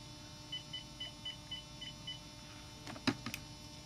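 Faint, evenly spaced beeps of a phone ringback tone while a call to a home landline waits to be answered, about six short pulses in a row followed by a couple of louder clicks.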